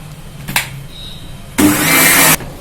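A mixer grinder blending fenugreek idli and dosa batter gives a short whir, then a steady, loud grinding run of under a second before it cuts off; no voices.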